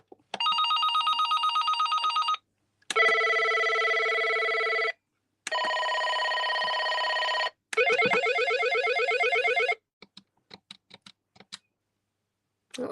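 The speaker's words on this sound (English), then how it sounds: "That's the ringtones on that." Several telephone ringtones play one after another, each a loud electronic trill lasting a couple of seconds with short gaps between, followed by a few faint clicks and taps.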